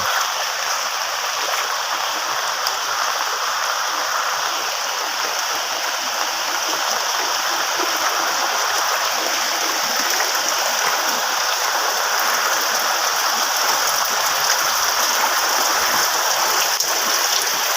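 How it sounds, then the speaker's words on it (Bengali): Rainwater streams rush steadily past after a heavy downpour, a loud, continuous broadband wash of flowing water with no break and no voices. "এই যে বৃষ্টির পানির স্রোত, বৃষ্টির পানির স্রোত এদিক দিয়ে যাচ্ছে।"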